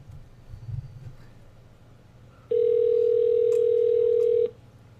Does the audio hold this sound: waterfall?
no